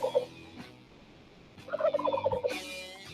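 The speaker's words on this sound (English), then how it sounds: "The turkeys are here." A turkey gobbles briefly at the start, then again in a longer, louder rolling run of calls near the end, close and clear with no talking.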